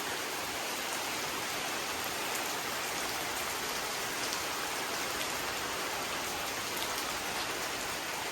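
Steady rain falls during a village festival, a dense even hiss of drops on surfaces that holds constant throughout with no voices.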